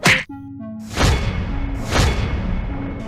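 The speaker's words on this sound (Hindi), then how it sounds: "गोपी गोपू को एक जोरदार मुक्का मारती है।" Cartoon punch effect in a Hindi animated series: a sharp whack at the start, followed by two heavy whooshing thuds spaced about a second apart.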